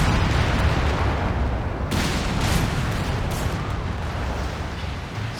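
Anti-tank guns firing at a tank in Company of Heroes 3, a dense roar of booming shots and blasts layered over one another, loud and continuous with a few sharper cracks.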